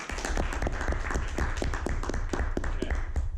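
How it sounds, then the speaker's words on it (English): Dense audience applause at a Toastmasters evaluation meeting, many hands clapping steadily and close for the whole stretch, with no talk over it. "Everybody give him a round of applause."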